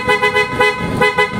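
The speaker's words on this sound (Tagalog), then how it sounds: "So try natin yung busina." A Kia Soluto's car horn being tested, sounding in several loud, close, short toots in quick succession.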